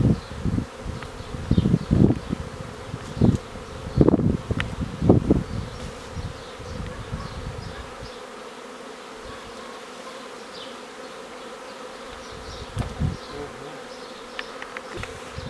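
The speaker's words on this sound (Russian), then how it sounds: "Потому что пчела медленно собирается в ящик." A honey bee swarm settling into a wooden hive box hums steadily, with many bees buzzing close by. Louder passes come and go early on before the drone eases into a softer, constant hum.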